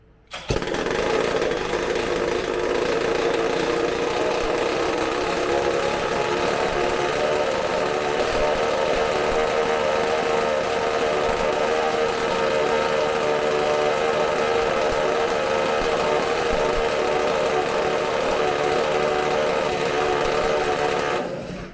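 McCulloch supercharged chainsaw engine running on a bench test, a loud steady high-revving drone held continuously from start to finish without a break.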